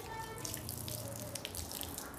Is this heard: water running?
yes